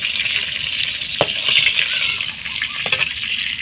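Eggs from country chickens frying in hot oil in a pan, just after cauliflower was browned in it; a steady, close crackling sizzle with a few light clinks over it.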